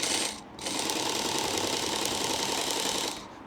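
A Work Sharp Ken Onion Edition sharpener fitted with its blade grinding attachment and a replacement belt runs steadily, a close, continuous whirring drone that briefly dips near the start and then holds even until it winds down at the end.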